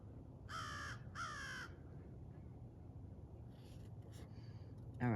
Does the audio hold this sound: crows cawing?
yes